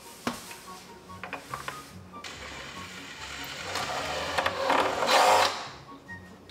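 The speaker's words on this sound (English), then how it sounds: "I'm going to drill it in" A power drill drives a big screw into wood while a small wooden llama house is being built. After a few clicks, the close whirring motor grows steadily louder for several seconds before stopping.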